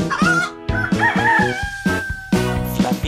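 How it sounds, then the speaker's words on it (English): Rooster crowing in a children's farm-animal song, a loud, close, harmonic call broken into several repeated bursts, with no talking over it. "that is me, a rooster!"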